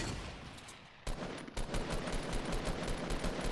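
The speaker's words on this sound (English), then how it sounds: "Look at all of the shots he's hitting." Rapid automatic gunfire from the Fortnite video game rattles in dense continuous bursts with a brief break near the start, loud and steady with no voices.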